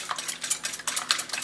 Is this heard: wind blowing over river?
no